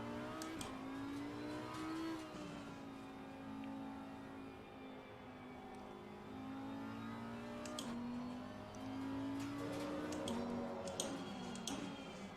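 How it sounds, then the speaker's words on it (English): A GT4 race car in the Assetto Corsa Competizione sim, its engine note climbing and dropping through gear changes with a loud buzzing rasp, punctuated by sharp upshift pops, heard close and continuous with no talking. "This one sounds like a race car after the quietness of the Aston Martin."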